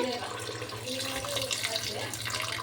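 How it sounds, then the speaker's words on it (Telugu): Water pours into a pot of chicken feet soup, a steady splashing rush close by, with a voice talking over it. "ఇంకా ఈ చారులోకి అయితే పోసుకోవాలి చారు వాటరు"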